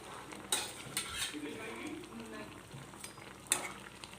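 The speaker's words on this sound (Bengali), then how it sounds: "এদিকে ভালোভাবে নাড়িয়ে দেবো" A fish curry with cauliflower, potato and tomato, with pre-fried fish pieces added, is stirred in a simmering pot. A spoon scrapes and clinks against the pan in a few sharp knocks over a steady soft sizzle.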